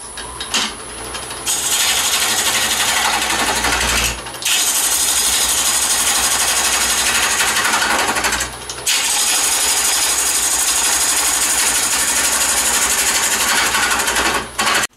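A wooden piece is hollowed out on a lathe, a loud, continuous rasping scrape of the tool cutting wood that drops out briefly twice before resuming.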